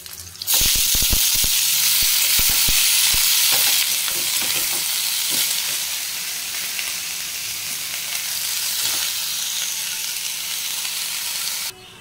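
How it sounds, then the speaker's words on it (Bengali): Pea greens hitting hot oil with garlic in a pan, a loud, close, continuous sizzle with some clattering stirring at the start, no voices. "এই রসুনটা নিয়ে এবার দিয়ে দেবো শাক।"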